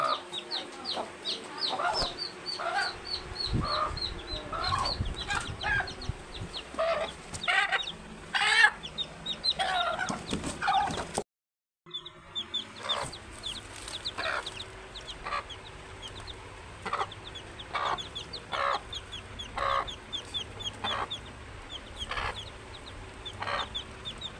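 Hen clucking close by among her two newly hatched chicks, with repeated short clucks and soft chirps running throughout and a brief gap partway through.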